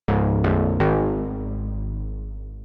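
Three rapid, loud synthesized brass stabs from a Serum patch, the last one held, each a bright harmonic chord ringing out into a smooth reverb tail that slowly decays, with no voices.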